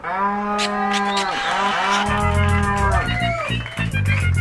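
Cows moo in a loud, close series of long drawn-out calls, several overlapping lows that bend down in pitch, with a rumbling background underneath.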